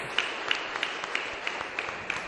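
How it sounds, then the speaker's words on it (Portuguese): A church congregation applauds with faint, rhythmic claps at an even beat, heard in the distance over a roomy background hum. "Aplauda o Senhor"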